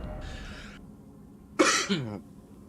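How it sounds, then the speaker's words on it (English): Two quick, close coughs, the second a little weaker, follow a moment of faint breathy noise; no talking. "I don't know why I'm coughing"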